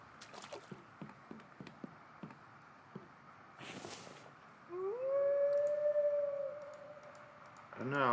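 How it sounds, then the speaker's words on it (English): A wolf howls in a video game, one long rising then sustained cry that fades out, following earlier clicking taps, with a second howl just starting at the end. "I don't know how close that wolf is. I can hear him."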